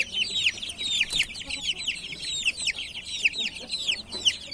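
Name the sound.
carijó chicks and chickens clucking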